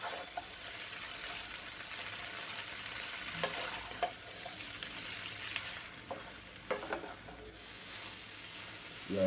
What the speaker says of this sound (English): now the vegetables have been frying up for some time